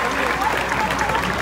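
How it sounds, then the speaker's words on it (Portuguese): A large crowd at a Marcha Para Jesus gathering in Rio applauds the Lord in a brief, loud wash of dense clapping and crowd noise lasting about a second and a half. "Eu queria que você aplaudisse o Senhor pela vida desses."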